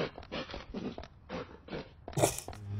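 A dog barfs in the video game Deadly Premonition, making repeated wet, gagging heaves in short bursts before one final louder retch.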